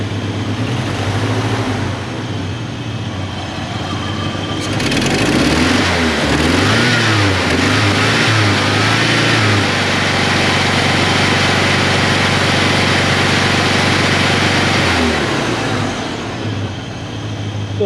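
A Ford Ranger's engine rumbles at idle, then revs up loudly for several seconds as gas is given before dropping back to a steady idle, heard close by.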